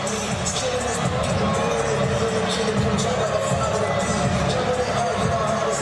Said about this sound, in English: What a crowd on hand tonight, Rob.